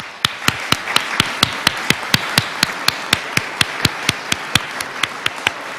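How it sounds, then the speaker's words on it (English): An audience claps after an honor guard presentation at a ceremony announcing the 2017 American Liberty gold ultra high relief $100 coin. The claps form a crisp, steady, evenly spaced beat, fairly loud and close, with no talking. "Please give them a round of applause."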